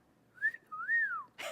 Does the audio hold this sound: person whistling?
yes